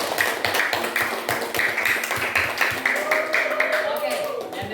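A classroom group claps steadily and rhythmically in praise of group one, moderately loud, with a voice speaking over the applause near the end.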